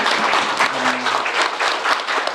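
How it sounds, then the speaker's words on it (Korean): Audience applause at a community book concert talk event, loud dense clapping close by with a short vocal sound briefly audible underneath. "박수 한번 주시고요."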